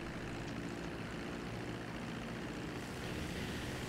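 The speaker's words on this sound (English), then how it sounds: "Stop going in circles and just get in the plane." Dodo propeller plane engine in Grand Theft Auto V, a loud continuous droning roar with a steady buzz, alone without talk.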